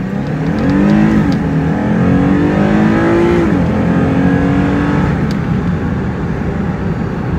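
Engine of a 2005–2013 Lexus IS sedan revving from inside the cabin, a steady loud drone that rises in pitch and then drops back, continuous throughout with no talking.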